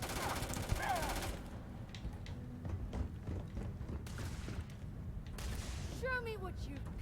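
Bursts from the Maelstrom gun in Starfield crack out in quick volleys over a rumbling game soundscape, fairly quiet overall. Voices talk throughout the firing.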